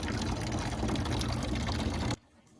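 Rainwater gushing from a 55-gallon barrel catchment system through a pipe, a steady, loud, close rush of flowing water that cuts off abruptly near the end, leaving quiet.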